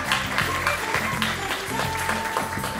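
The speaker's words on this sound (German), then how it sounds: "Applaus!" Audience applause fills a cinema after a talk with an actress, a sustained patter of many clapping hands at moderate loudness with some voices mixed in.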